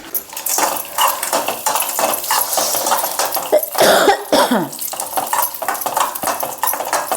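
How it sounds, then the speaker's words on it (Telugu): Raisins fry in a drop of oil in a pan for coconut-milk rava laddu, giving a steady close crackling sizzle broken by repeated stirring scrapes. "కొంచెం చుక్క ఆయిల్ వేసి కిస్మిస్లు కొంచెం ఆయిల్ నెయ్యి వేసుకొని వేపుకుంటారు"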